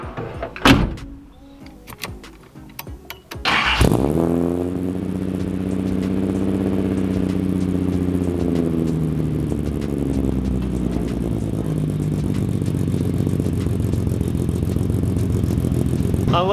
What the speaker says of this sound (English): The brand new exhaust, like the full exhaust on this, it's just crazy.